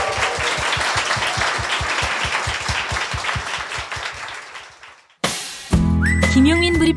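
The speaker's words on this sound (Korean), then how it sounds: "정선태 교수님께 큰 박수 부탁드리겠습니다" Dense clapping from a talk show audience applauding a professor, steady and fairly loud before fading out, followed abruptly by a burst of music.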